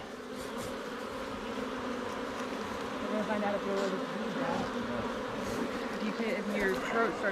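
Honey bees buzz densely around an open hive during a beekeeping session after smoking, a steady swarming drone with scattered nearer passes, while a person talks over it.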